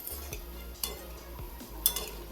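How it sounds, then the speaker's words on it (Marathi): Shankarpali frying in hot oil in a pan, stirred and turned with a spatula, giving a low continuous sizzle under a few sharp metallic clinks and scrapes. "मस्त अशी तळायला लागले ती असं उलटण्यानं मिक्स करत राहायचं एकसारखी तळते ती"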